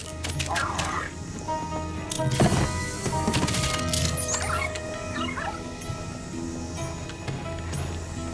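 Polter Pup, the ghost dog in Luigi's Mansion 3, yips and barks in a few short bursts over game music and effects, with a voice talking throughout.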